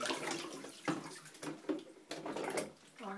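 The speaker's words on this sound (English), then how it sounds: "Are you in the bathtub, Cece?" Bath water splashes and sloshes in a bathtub as a child plays with a toy boat, a series of close, irregular splashes and drips.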